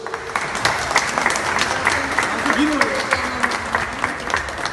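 Wedding guests applaud at a Turkish civil wedding ceremony, a steady crowd of clapping hands filling the room with faint voices mixed underneath.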